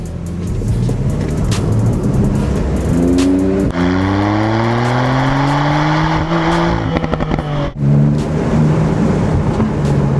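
Porsche 911S Cabriolet with PDK gearbox accelerating hard, engine climbing through several quick, smooth upshifts, loud and close, with no talk.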